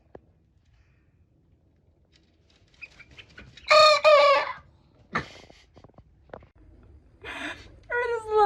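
A young rooster gives a few short, hoarse crows with pauses between them, close by, amid faint background noise.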